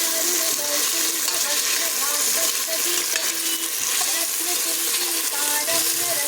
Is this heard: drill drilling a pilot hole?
no